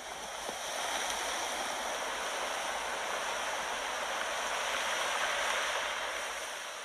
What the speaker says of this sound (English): It's the waves crashing along the shoreline.